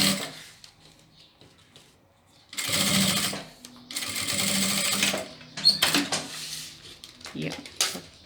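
Sewing machine stitching bias binding onto a plastic necessaire box, running in two steady, loud bursts with brief pauses and a few soft clicks and handling noises between them.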